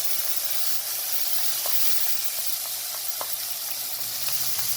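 Tomatoes fry in a pan of hot oil, making a steady, dense hiss of sizzling with faint scattered ticks and pops throughout, close and fairly loud, with no voices.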